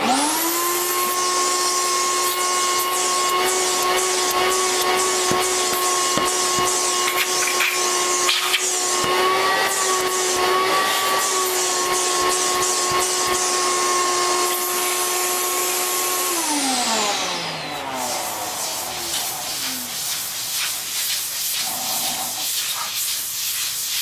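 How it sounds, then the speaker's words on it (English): A vacuum cleaner runs continuously with a loud, whining hiss while cleaning sanding dust off a bowling ball resurfaced to a 500-grit finish, then winds down near the end. "I'm going to vacuum."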